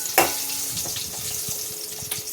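Garlic frying in hot oil in a pan while cooking siru pasalai keerai greens, a close, steady sizzle peppered with small crackles and pops throughout.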